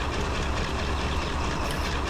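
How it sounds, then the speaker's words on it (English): A moving train with a steady, loud low rumble and rolling wheel noise that holds constant throughout, with no talking over it. "Feel the train."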